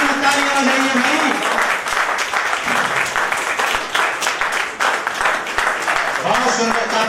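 At a Hindi poetry festival in Delhi, an audience claps for a young girl poet, continuous lively applause with voices murmuring and calling out beneath the clapping.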